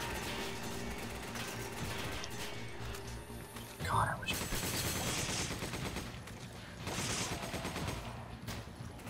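Gunfire from shooting in the video game Resident Evil 5, with repeated bursts of shots layered over game music and effects and a sharp louder report near the middle, while a person talks throughout.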